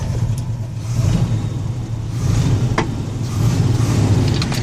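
A 1962 Chevrolet C10 long-bed stepside pickup's engine runs close by with a steady low rumble, swelling in a few revving surges with no talk.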